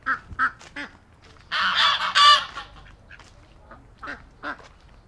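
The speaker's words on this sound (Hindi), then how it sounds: "बतख भी मौजूद है." Ducks quack and honk in a landscaped garden in Madina: several short, close calls, then a loud burst of overlapping squawks, followed by a few more scattered quacks against quiet background.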